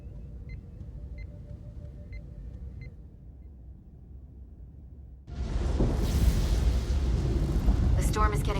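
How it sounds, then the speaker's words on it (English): In the Star Trek Resurgence video game, a low storm rumble drones beneath faint tones, then swells abruptly into a loud, roaring wall of wind and crackling turbulence that holds steady to the end. "The storm is getting worse."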